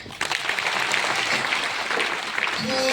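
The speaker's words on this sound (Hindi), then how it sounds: "ताली बजाइए" An audience claps steadily for a few seconds, a dense, even patter of applause that swells slightly near the end.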